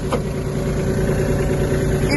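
A Kubota A-15 Japanese mini tractor engine runs at a steady idle-like drone, close and continuous throughout with a constant low rumble and faint higher hum.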